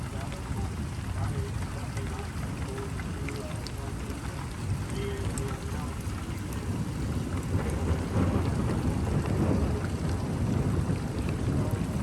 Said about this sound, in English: It is raining heavy out there.